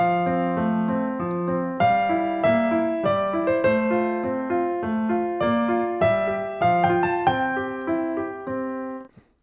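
Solo piano plays a steady, flowing Alberti bass accompaniment under a simple melody, rising and falling in even notes before ending with a held chord.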